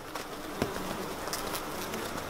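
Flies and wasps buzz around sweetcorn plants in a garden, faint intermittent hums and small wingbeat bursts over quiet outdoor ambience.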